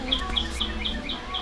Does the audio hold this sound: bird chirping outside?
yes